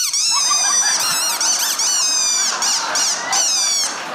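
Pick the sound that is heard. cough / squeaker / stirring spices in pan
squeaker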